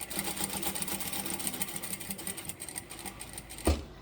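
A sewing machine stitches a quarter-inch seam around layer-cake fabric pieces for a bowl cozy, a steady rapid close rattle of the needle running continuously, ending with a soft knock.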